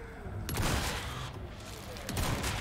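Gunfire from a player's weapon in a shooter video game, shots bursting around the half-second mark and again near the end, mixed with game ambience and a faint voice.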